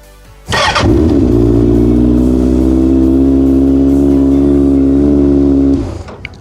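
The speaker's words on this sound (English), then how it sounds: "now if I turn on the bike" A motorcycle engine being started after a servo body install, catching with a burst then settling into a loud, steady, close idle before cutting off at the end.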